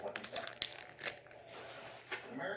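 Plastic packaging of an SD card being handled and opened: faint, close crinkling and crackling with a few sharp snaps and rustles in a quiet room.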